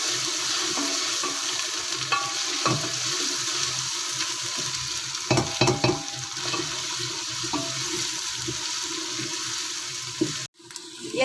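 Ginger paste and masala frying in a pan for daal mash, a steady broadband sizzle with occasional stirring scrapes and clinks, loud and close, without speech.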